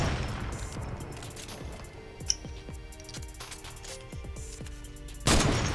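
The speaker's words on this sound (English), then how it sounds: "just work on your sniper shot" Sniper rifle shots ring out in the Fortnite video game, a handful of sharp cracks spaced a second or so apart, each trailing off in a short echo, over faint game ambience and no talking.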